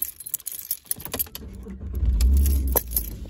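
A BMW is started up: keys jangle and click close by, then a low engine rumble swells in and holds steady beneath light rattling.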